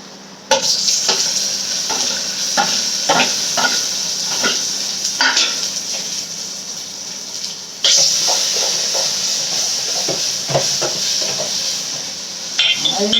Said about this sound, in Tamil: வெங்காயம் வதங்கிச்சு இப்போ வந்து தக்காளி போட்டுக்கலாம்